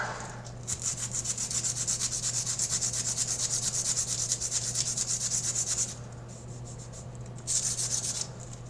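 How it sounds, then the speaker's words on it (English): A wooden Master Sword being sanded by hand: rapid rhythmic rasping strokes run continuously, pause briefly, then resume. Close and clear, with no talk. "Sanding ASMR"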